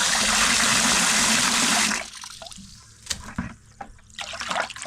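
Cool water pours loudly into a container to soak hand-pulled lamb sausage casings, a dense gushing rush for about two seconds, then quieter trickles, drips and sloshing as it settles.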